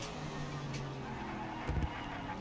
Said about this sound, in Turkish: Egzoz patır diyor.